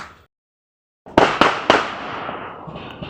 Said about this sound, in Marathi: फटाके फुटायले बाहेर.